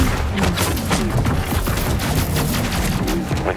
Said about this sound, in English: We're getting shot at by the Goliath now.